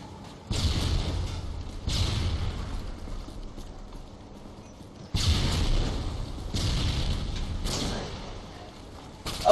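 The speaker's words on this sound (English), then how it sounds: "Stun grenade." A stun grenade goes off in Call of Duty: Modern Warfare 2 multiplayer, with sudden loud bursts and a muffled, ringing wash amid ongoing game noise, close and dense.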